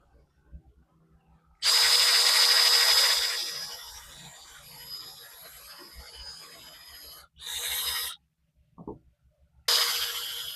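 A power drill bores a pilot hole into a wooden fence gate in a sustained loud whir that tapers off, followed by two short bursts of drilling with a brief knock between them.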